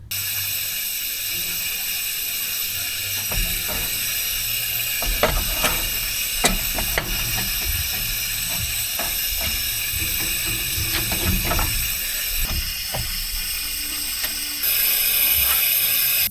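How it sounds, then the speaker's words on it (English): A pneumatic huck gun sets rivets on a 2000 Peterbilt 379, with a sustained air hiss and whine underlying scattered sharp mechanical clacks and thumps from the tool cycling. "And here's my other huck gun. And we'll watch it install a rivet."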